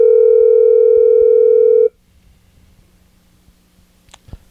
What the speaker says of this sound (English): held his phone up to the radio